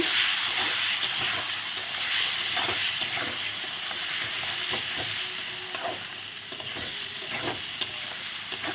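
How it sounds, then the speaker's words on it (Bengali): Spices with salt, turmeric and sugar sizzle and fry steadily in a pan for a mushroom-free vegetarian banana-flower kofta curry, with occasional stirring scrapes and a constant hiss throughout, no voices. "লবণ দিয়ে দেবো হলুদ দিয়ে দেবো চিনি দিয়ে ভালো করে কষিয়ে নেব"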